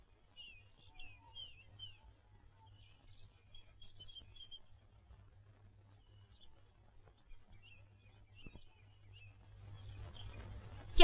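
A parrot chirps in short repeated bursts, a clear series of bright tweets at moderate distance in a quiet setting, with a rising rustle of background noise near the end.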